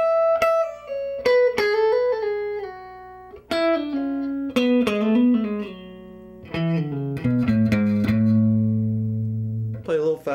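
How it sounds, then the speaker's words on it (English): Electric guitar plays a slow E mixolydian lick full of hammer-ons and pull-offs, with sharp plucked attacks and descending note runs, clean and close, ending on a low sustained note. "So I played a lick like this. I'll try to do it slow. There's a lot of hammers and pulls"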